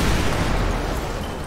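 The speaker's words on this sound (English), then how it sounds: "330 explosion, that black Explorer just exploded, parking garage 280, we got a vehicle on fire now." A black Ford Explorer blows up in a parking garage in a video game, a loud, rumbling blast that fills the space and slowly fades into a roaring burn.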